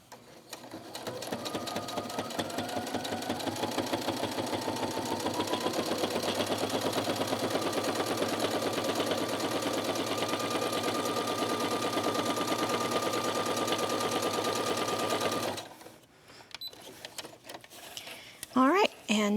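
Sewing machine stitching an enlarger panel into a cosplay outfit, a steady fast whirring drone running for about fifteen seconds without pause, close and loud, then stopping to a few clicks and handling noises, with someone talking.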